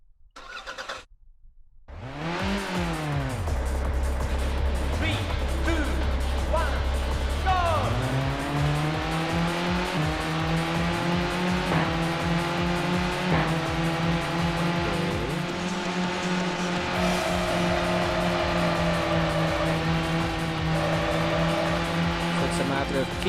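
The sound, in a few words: cars drifting in video game Touge Max 2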